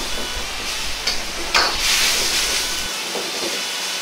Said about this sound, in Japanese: ゴーヤを軽く煮ながら味の確認をします。